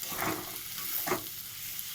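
A vegetable and potato filling fries in a pan, a steady soft sizzle broken by two scraping stirs of the spatula, close and fairly quiet.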